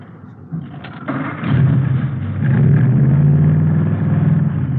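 A custom hot rod's 120-horsepower engine cranks and catches, then settles into a loud, steady rumbling idle with a deep throbbing tone, close by.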